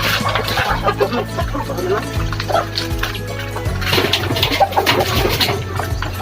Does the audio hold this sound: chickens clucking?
yes